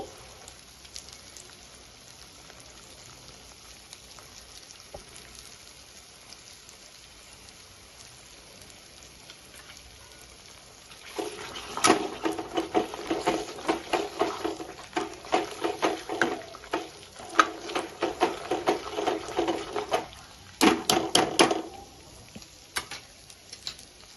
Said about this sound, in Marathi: आणि हा आपला मच्छी फ्राय आहे